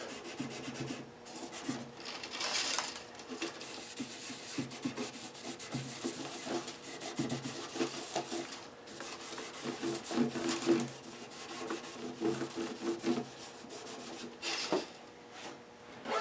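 Oil wiped onto a guitar fingerboard with a cloth, a steady, close, soft rubbing and scrubbing texture that runs on continuously and quietly, with no talking.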